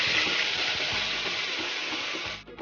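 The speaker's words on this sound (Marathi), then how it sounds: "आता कांद्याची पेस्ट असं मस्त फ्राय मस्त फ्राय करून घेऊयात" Onion paste frying in a pan for Maharashtrian chicken curry, a steady close hiss and sizzle filling the clip alone, then cutting off near the end.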